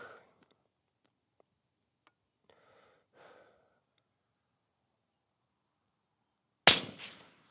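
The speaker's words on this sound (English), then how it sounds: "I'm gonna shoot twice with no bag" A single sharp rifle shot fired from the shoulder without a rear bag, loud and close, cracking out of near silence after faint movement and handling sounds.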